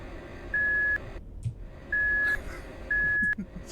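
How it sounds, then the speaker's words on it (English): A reverse beep on a wheelchair in a horror game sounds as three evenly spaced, loud electronic beeps over a low ambient rumble. "It's got a reverse beep."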